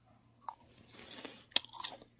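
Someone bites into a crunchy homemade meringue cookie baked in an air fryer, giving a few sharp close crunches and soft chewing against a quiet background.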